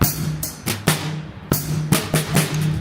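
A short drum pattern plays alone, sharp snare-like hits and low thumps falling in an uneven rhythm over a few seconds.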